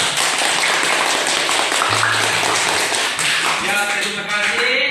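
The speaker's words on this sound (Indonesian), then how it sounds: "Tepuk tangan dulu untuk kita semua." A classroom full of students claps together in a sustained, dense patter of hands for several seconds, close and fairly loud, with voices mixed in beneath.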